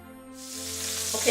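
Duck skin starts sizzling on an oiled bacon rack, a hiss that rises quickly out of near silence and grows louder and steadier, with a faint scrape at the end.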